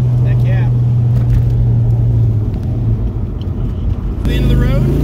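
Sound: 1999 Ford Mustang 4.6 V8 accelerating on test drive

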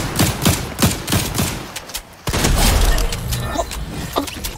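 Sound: heavy shotgun firing in a video game

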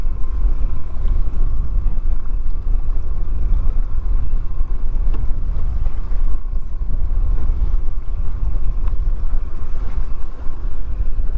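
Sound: wind blowing over Lake Erie on a boat

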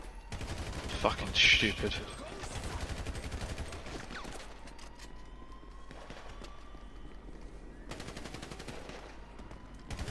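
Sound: gunfire during heist in GTA V video game

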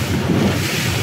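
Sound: Honda BF150 outboard engine running on a cruising boat

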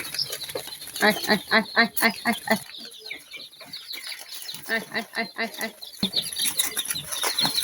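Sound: chicks in a poultry brooder being fed

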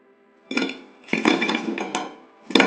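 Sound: crispy fried mini samosas crackling as they are lifted

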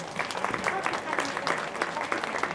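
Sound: audience applause

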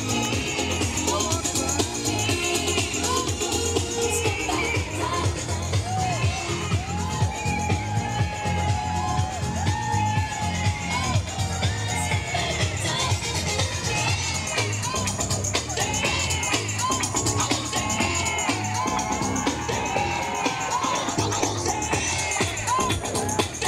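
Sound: crowd cheering at Brighton Pride

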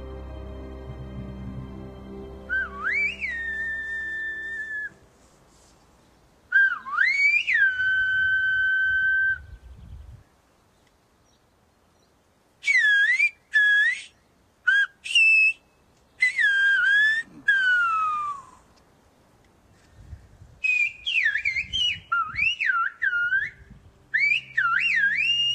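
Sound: Silbo, the whistled language of La Gomera

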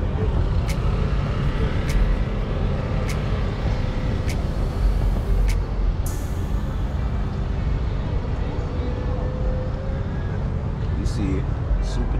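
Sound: supercharged car engine running

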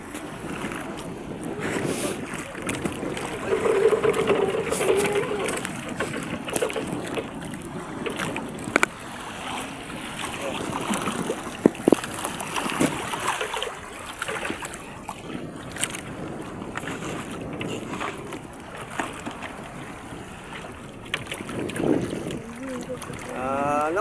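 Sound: sea waves hitting boat

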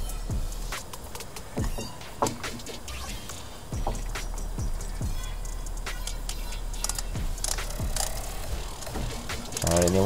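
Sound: brake caliper piston compressor tool ratcheting

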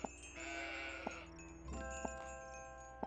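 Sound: goats bleating in video game Old Man's Journey

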